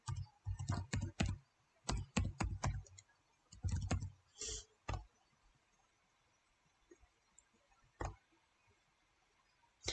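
Keys clatter on a computer keyboard in quick, close bursts of typing with pauses between them, then a few isolated taps toward the end.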